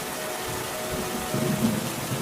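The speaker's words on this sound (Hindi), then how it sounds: "कुछ दिनों बाद बहुत तेज बारिश होने लगी" Heavy rain pours down in a steady, dense wash with a low rumble like distant thunder beneath it, the downpour holding even and unbroken throughout.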